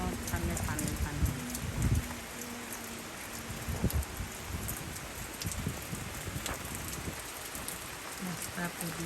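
Steady rain falls over a waterlogged rural area, a continuous wash of patter with occasional heavier drops and a muffled thump or two, audible throughout.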